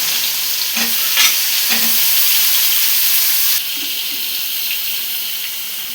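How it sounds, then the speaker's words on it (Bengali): Onion frying in hot oil in a pan: a steady, close sizzle with a few light stirring scrapes, running alone without voices and easing slightly partway through. "তেলে পেঁয়াজটা দিয়ে দেব।"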